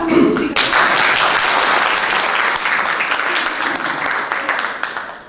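An audience at a storytelling workshop gives loud, dense applause that starts abruptly and continues evenly throughout, with no talking over it.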